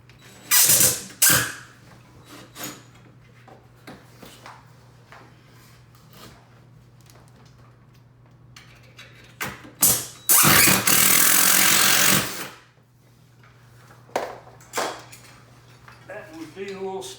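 A power drill drives 2.5-inch screws into the wooden face frame of a base cabinet during installation: short whirring bursts and clicks, then one long loud run of a few seconds, followed by scattered taps.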